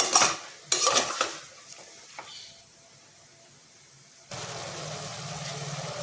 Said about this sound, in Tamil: லோ ஃப்ளேமில் வச்சுக்கிட்டு நல்லா வதக்கி விடணும்